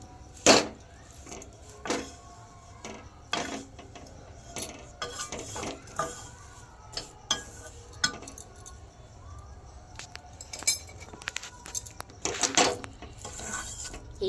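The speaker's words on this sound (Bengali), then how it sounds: "এইভাবেই আমি কম আঁচে এটাকে নাড়তে থাকবো।" A spoon scrapes and clinks against a pan while jaggery and peanuts are stirred over low heat for peanut chikki, with irregular metallic knocks and scrapes throughout, close and moderately loud.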